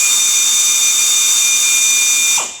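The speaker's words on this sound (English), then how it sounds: "I got my drill." A power drill runs with a steady high whine at full speed for about two seconds, loud and close, then spins down at the end; no talking.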